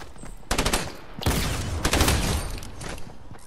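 Submachine gun fire in a battle-royale shooter: bursts of rapid shots starting about half a second in, then longer sustained volleys up close and loud, with short gaps between strings of fire.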